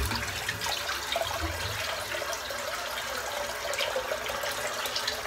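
Water running steadily from a tap while someone rinses their head after a shave, a constant hiss and splash at moderate level throughout, with no speech.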